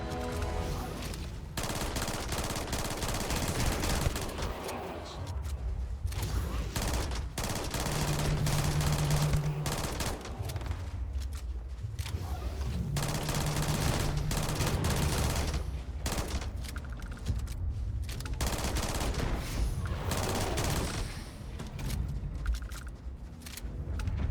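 Gunfire in the video game Starfield crackles in dense, rapid bursts and sustained volleys, loud and close, with brief pauses between flurries over roughly twenty seconds.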